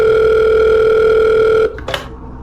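A phone rings in the Five Nights at Wario's 3 game, a loud, steady electronic tone held for about a second and a half before cutting off, followed by a couple of short clicks as the call is picked up.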